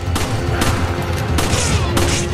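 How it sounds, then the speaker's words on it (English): Bursts of gunfire in Resident Evil 5 crack out in several loud volleys over a dense game soundscape with a low rumbling bed, no voices. "We gotta wait for the bullets to stop."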